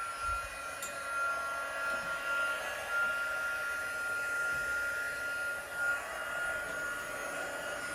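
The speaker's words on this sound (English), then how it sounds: "I did not plug this heat tool in, so let's plug this bad boy in. And we are going to warm it up just a smidge" An embossing heat tool blows steadily as it warms up for melting embossing powder on a rustic summer card, a continuous whirring hiss with a faint tonal whine, close and alone.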